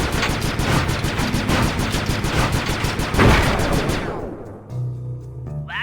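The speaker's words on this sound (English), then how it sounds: "I'm overriding the spotlight security gun." A spotlight security gun in the Sly 2 video game fires a rapid, loud burst of regular shots for about four seconds, then cuts off, leaving a low mechanical hum.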